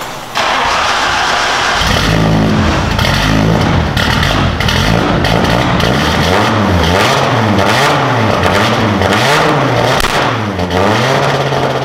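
A big-turbo Audi RS3 five-cylinder sits on a dyno, cranking over and settling into a loud, rough idle before repeated throttle blips rise and fall in a wavy rhythm, close and dominant throughout.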